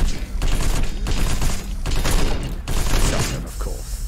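Shotgun fire in the video game Protocore, several loud, dense bursts of blasts in quick succession with mechanical clacks between them, close and booming over game noise.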